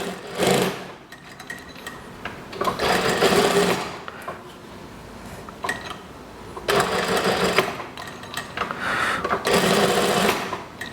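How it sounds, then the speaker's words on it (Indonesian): A sewing machine stitches a kimono-sleeve house dress in several loud whirring bursts, each lasting a second or two, with short quiet pauses between them. "Kita jahit dulu."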